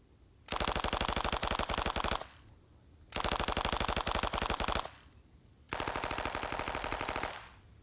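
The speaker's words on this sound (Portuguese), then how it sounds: "Esta é a submetralhadora Thompson." A 70-year-old Thompson submachine gun fires at a shooting range club in Joliet, Illinois, in three loud, sustained automatic bursts of roughly one and a half seconds each, separated by short pauses.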